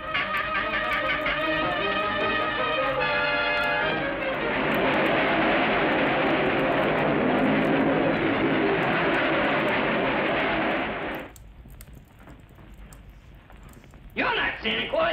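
A cartoon rocket-doodle aircraft roars off toward the North Pole with a loud, rushing engine noise that holds for several seconds over music, then cuts out to quieter sounds.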